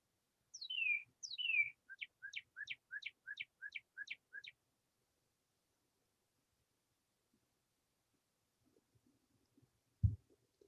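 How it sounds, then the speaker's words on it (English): Red bird (cardinal) song: two downward-slurred whistles followed by a rapid series of about nine short chirps, clear and fairly close, then quiet with faint low rustling and a thump at the end. "Red bird."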